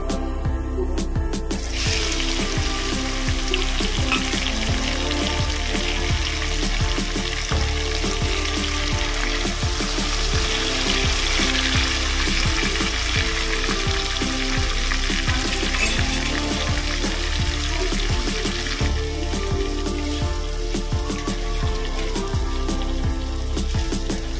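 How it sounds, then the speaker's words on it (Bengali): Prawns frying in hot oil with lightly browned garlic, giving a steady, loud, continuous sizzle that runs unbroken throughout with faint stirring and clatter mixed in. "রসুনটা হালকা ভাজা হয়ে গেছে, আমি এবার মাছটা দিয়ে দেব।"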